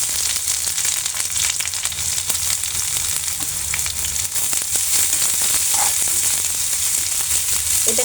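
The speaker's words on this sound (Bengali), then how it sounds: "রসুনটা ভাজা হয়ে গেছে অলরেডি, আমি এখন পেঁয়াজ কুচিগুলো দিয়ে দিচ্ছি।" Chopped onions hit hot oil with already-fried garlic, giving a steady, loud, close sizzle with occasional stirring scrapes throughout, no voices.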